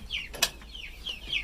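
Chickens cluck softly in short, quick calls over a brief moment, faint and close, with a small knock in between.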